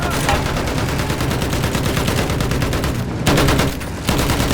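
Rapid machine gun fire in a World War I battle game on the Somme: dense, continuous rattling bursts, close and loud, with a short pause and a louder burst near the end.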